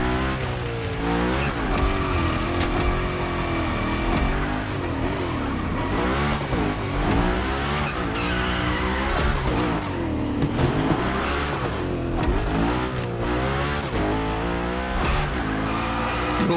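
A car in a racing video game slides through big gymkhana-style drifts, engine revving and rising and falling under constant tire squeal, loud and continuous with no voices.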